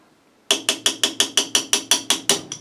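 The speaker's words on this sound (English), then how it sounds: "then you can use a very light hammer and just kind of tap it back" Light hammer tapping a steel punch to drift out an SKS rifle sight: about ten sharp metallic taps in a quick, even rhythm, close and loud, with no talk.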